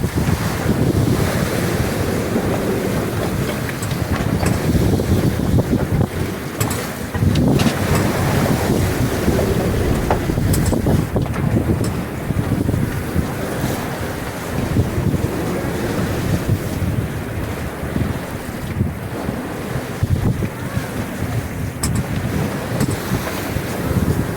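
Strong wind roars over the microphone while waves surge and break continuously around a boat at sea, loud and unbroken throughout.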